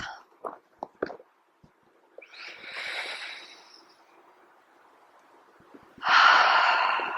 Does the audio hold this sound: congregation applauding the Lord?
no